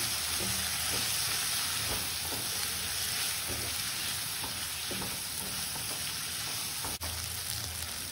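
Vegetables for sambar frying in a pan hiss in a constant loud sizzle, with faint rhythmic stirring taps and one sharp tap near the end, close up and without speech.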